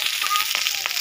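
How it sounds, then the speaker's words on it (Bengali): Fish fries in a pan with a steady, bright, crackling sizzle close by, heard alone for a brief moment. "এই যে মাছ ভাজা হচ্ছে"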